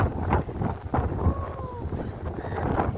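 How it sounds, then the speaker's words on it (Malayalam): Strong wind at Gopalpur beach buffets the microphone in heavy gusts, with voices talking over the roar. "കാറ്റ് നമ്മളെ എടുത്തോണ്ട് പോണ കാറ്റാണേ"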